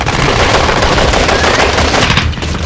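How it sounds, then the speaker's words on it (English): Sustained gunfire in a furious gun battle as terrorists storm an airport building, dense overlapping bursts and rapid shots filling the scene loudly and continuously, no voices. "A furious gun battle ensues."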